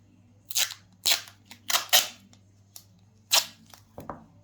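A piece of tape is cut at close range, producing about half a dozen sharp, crackling snips in quick succession with short silent gaps between them.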